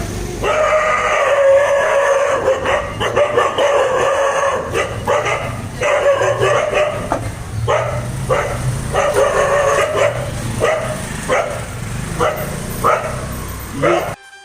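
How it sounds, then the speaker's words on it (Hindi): Dogs barking in a street near Singh Pol in Jodhpur, with repeated loud, fairly close barks in irregular bursts throughout, a rooster-like call in the mix, and steady street noise underneath. "शहर में नई इलेक्ट्रिक टैक्सियों को देख करके कुत्ते भी भौंकते हैं"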